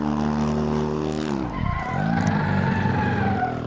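Engine of a race car in the Assetto Corsa game on PS4, roaring loud and steady with rising harmonic tones like an airplane, a sweeping pitch drop midway as it slides, then building again.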